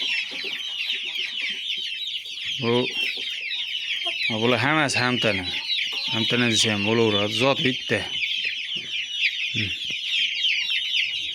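A flock of fighting roosters clucks steadily and busily at close range, a dense chatter that runs the whole time, while someone talks over it in several bursts.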